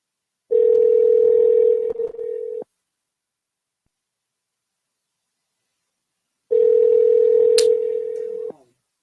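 A ringback tone plays on a phone line while a call goes out to a cell phone: two long, steady rings separated by several seconds of silence, with no one talking.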